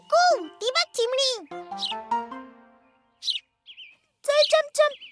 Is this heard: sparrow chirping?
yes